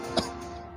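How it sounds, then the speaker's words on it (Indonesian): An old man coughing behind a large, centuries-old tamarind tree: two short, sharp coughs, one early and one at the end, over a faint background drone. "terdengar suara orang tua batuk tepat di belakang pohon asem yang besar"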